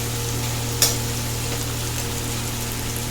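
Curry leaves, mustard seeds and peanuts sputter in hot oil for a tempering, a steady close sizzle with one sharp crackle burst near the start and no talking.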